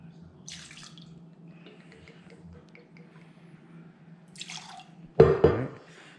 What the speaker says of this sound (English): I'm going to put 2 ounces of my bourbon in here